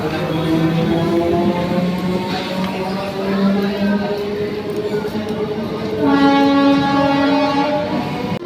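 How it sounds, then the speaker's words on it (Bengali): An empty local train pulls away from a platform at Kalyani station, a loud steady rumble with sustained tonal horn-like hums close by, and no talk. "আর এই ট্রেনটা যাচ্ছে"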